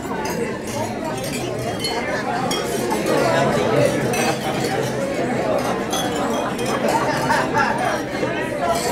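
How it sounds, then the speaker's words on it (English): Glasses clinking in a toast at a dinner, with scattered bright clinks of glass on glass over a steady murmur of many voices in a busy room, people talking and calling out cheers throughout. "raise your glass and let the others do the clinking around you"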